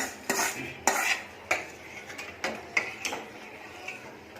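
A spoon stirs moong dal payasam with pomegranate in a pot, with cashews and coconut fried in ghee being mixed in, producing about nine distinct metallic clinks in an uneven rhythm over a soft, quiet background.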